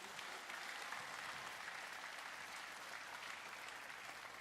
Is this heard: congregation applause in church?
yes